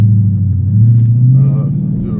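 A 2015 Mustang GT Premium with the Track Pack and an SVE Stage 2 exhaust rumbles with a deep, throaty idle that swells briefly partway through, loud and close, with a voice faintly audible.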